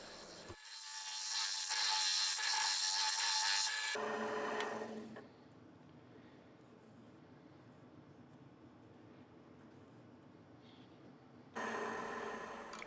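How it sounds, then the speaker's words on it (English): Carbide cutter on a rotary tool carving into metal for a forged door latch, a loud rasping grind for a few seconds, then a quieter steady whir, with the grinding returning at the end. "Here I'm trying a different profile of carbide cutter"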